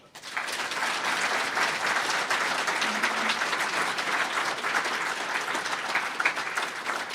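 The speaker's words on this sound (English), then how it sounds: "So big round of applause to Jesse." Audience applause for a guest speaker at a community talk event, a steady dense wash of clapping that stays loud and even for the whole stretch with no voices over it.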